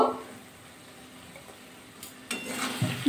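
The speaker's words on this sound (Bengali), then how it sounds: "আবার একটু নাড়াচাড়া করে নিলাম।" Spicy flat-bean curry, with mustard oil added, is stirred in a pan: a quiet simmer, then scraping and clinking of a spoon against the pan in short bursts toward the end.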